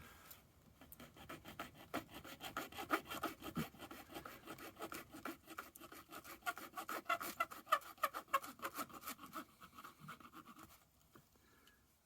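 A portable stainless razor saw with fine teeth cuts through a workpiece in fast, even strokes, producing a close, raspy sawing that continues for several seconds without talking.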